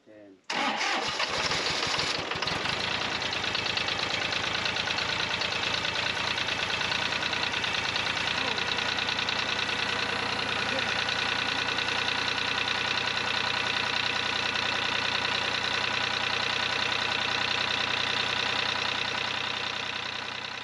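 An engine cranks and catches, then settles into a loud, steady idle with a continuous rapid ticking clatter from valve tappets that need setting, running alone without talk.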